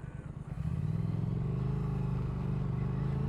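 A 2017 Triumph Thruxton motorcycle rumbles steadily while being ridden, its engine note rising slightly as it pulls away, with a low, close throb and no voices.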